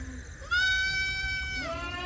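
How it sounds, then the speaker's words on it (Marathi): Beetal goat kids, two weeks to a month old, in a goat shed, with one clear, loud, wavering bleat lasting over a second, close up, and no talking. "ही आहेत शेळ्यांची बिटल बोकडाची पिल्लं वगैरे"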